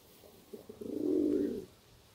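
Pigeons coo in a close, steady run of soft, low, throaty notes that swell into one sustained rolling coo and then stop, with no other sound around them.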